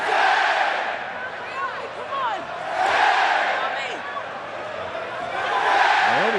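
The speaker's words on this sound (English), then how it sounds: "The entire crowd rates Naomi out of 10 while the ref counts her out" A large wrestling arena crowd at a Survivor Series event chants and roars in waves, loud and dense, rising and falling with a counting rhythm.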